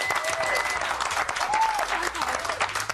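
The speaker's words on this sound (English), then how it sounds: "put your hands together for the one, the only" A studio audience at a T4 television special with Kylie Minogue breaks into steady, dense applause and cheering, with whistles rising over the clapping throughout.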